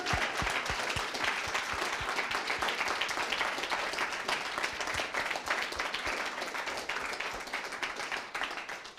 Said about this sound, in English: now it's time for a huge applause on that.